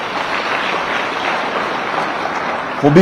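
Applause from mourners at a memorial gathering, a continuous, fairly loud wash of clapping that runs steadily before a voice cuts in at the end.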